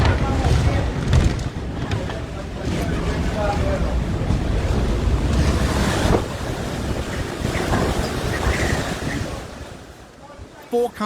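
Ocean waves and storm surf pounding a coastline during Hurricane Beryl in the Caribbean, a loud continuous roar of crashing water mixed with heavy wind buffeting the microphone throughout.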